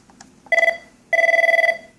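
An Avaya IP Office desk phone rings with a transferred call, giving one short electronic burst followed by a longer warbling ring, close and clear in a quiet room.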